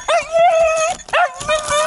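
A rescue dog gives two drawn-out, whiny yelping barks, close and loud, with a brief pause between them.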